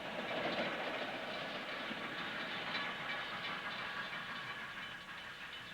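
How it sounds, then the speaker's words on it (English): A Chicago and North Western 4-8-4 Class H steam locomotive hauls a freight train west of Chicago, a loud, steady rumble with rail clatter and hiss that fades slightly toward the end. "Here, a 484 Class H engine heads a freight west of Chicago."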